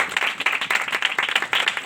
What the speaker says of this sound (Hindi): और जो खुदा का कलाम सच्चा है उसके लिए भी तालियां